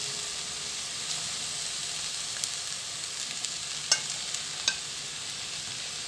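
Buffalo wings sizzle in hot oil in a cooking pot, a steady close hiss with a few sharp pops and crackles as pieces go in.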